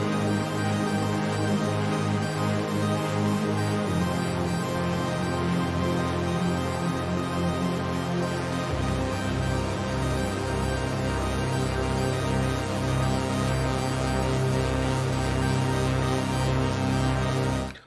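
An ambient synthesizer drone jam plays live, with dense sustained layered tones and a deep bass that steps down in pitch every few seconds, continuous and steady with no voices.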